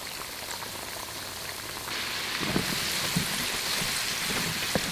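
A constant crackling hiss of potatoes frying in hot oil in a pan, growing a bit louder partway through, with occasional sharper pops and no talking.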